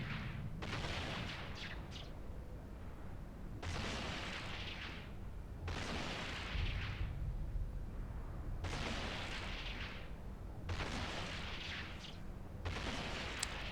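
Ship guns firing in the space game EVE Online, a steady rhythm of heavy booming volleys roughly every two seconds over a low constant rumble, no talk.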